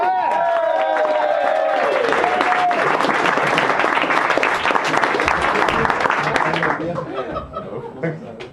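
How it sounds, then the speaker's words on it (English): A comedy club audience applauds a stand-up comedian being introduced, dense clapping mixed with chuckles and laughter, loud and steady before thinning out toward the end, with a voice audible over the opening. "get ready to give a fully cocked round of applause for Jasper Morrow!"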